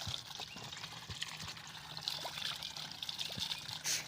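Water pours strongly from an outdoor source, splashing and gushing close by with a few irregular clatters and thumps mixed in.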